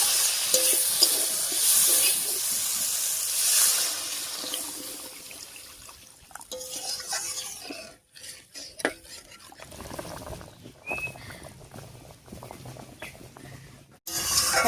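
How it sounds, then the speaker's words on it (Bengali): Water goes into fried spice paste for a river fish curry with yard-long beans: a loud, bright sizzle that fades into softer bubbling, with occasional clinks of a pot and spoon. "এবারে ঝোলের জন্য জল দেবো।"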